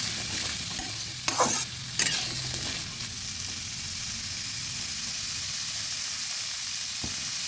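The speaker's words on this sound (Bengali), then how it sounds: "নেড়ে চেড়ে" Vegetables such as cauliflower, broccoli or capsicum stirred in a pan of oats khichdi, a brief burst of scraping strokes over a steady hissing sizzle that then settles into a continuous fry, close and without talk.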